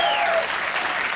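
A studio audience applauds and cheers loudly at a late-night talk show, a dense, rowdy roar like a sports crowd filling the whole moment with no break.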